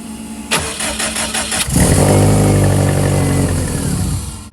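A motorcycle engine with the ignition on cranks in a short run of rapid clatters, then catches and settles into a loud, steady, throbbing idle close by.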